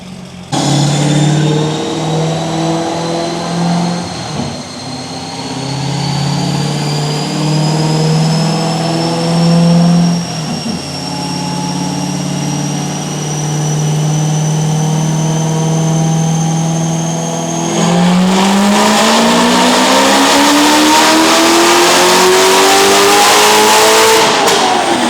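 A Corvette ZR1 on a dyno pull with an E-mix ethanol fuel blend climbs in a long, loud, steady rev with rising pitch, then drops briefly at a shift and winds up hard again.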